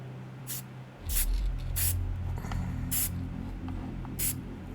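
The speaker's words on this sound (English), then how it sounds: "So let's spray this baby." An aerosol can of clear coat hisses in five short, evenly spaced sprays onto a 3D print over a low background hum.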